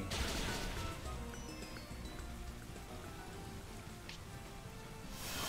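Rain summoned by the move Rain Dance during a Pokemon Scarlet and Violet raid battle, a dense, steady patter of falling drops with a brief splashy burst near the end, no speech.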